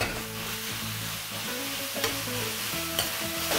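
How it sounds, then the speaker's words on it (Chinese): A wok of pork filling tossed with preserved mustard greens, soy sauce and oyster sauce, sizzling steadily while a spatula scrapes and clacks a couple of times, close up under background music. "倒进去一起再翻炒一下。"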